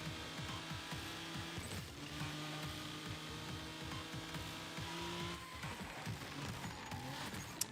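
Race car engine and tire squeal in the Screamer racing game, a continuous engine drone that shifts pitch with rapid revving pulses and skidding noise, steady and close.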